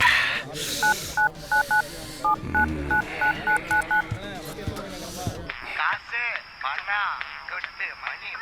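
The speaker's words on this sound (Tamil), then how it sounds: "என்ன ஹரி, இந்த நேரத்தில் எதுக்குடா ஃபோன் பண்ற?" A quick run of telephone keypad dialing tones, short paired beeps in rapid bursts, sounds in a Tamil comedy film scene, with voices talking over and around them, then a steadier tone follows.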